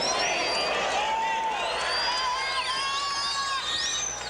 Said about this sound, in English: That excites the crowd somewhat with hundreds of Canadians in here.